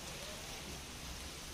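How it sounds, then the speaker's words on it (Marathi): Heavy rain pours steadily in Mumbai, a dense, even hiss without a break. "मुंबईतल्या उपनगरात देखील पाऊस पडतोय"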